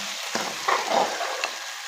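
Garlic ginger paste sizzles and fries in a pot while being stirred, a close, steady hiss broken by a few scraping stir strokes.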